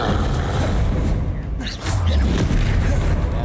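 Confringo fire spell blasting in Hogwarts Legacy, a dense, loud burst with a low booming thud around the midpoint over constant roaring game noise.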